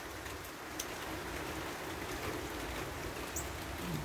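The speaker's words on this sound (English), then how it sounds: "it starts raining" Steady rain falls in Georgia with a soft, continuous hiss and patter, faint and even throughout, with no voices.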